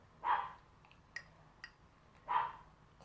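A dog barks outside a house, two single muffled barks spaced about two seconds apart, fairly faint and distant, with a couple of small knocks between them and no talk.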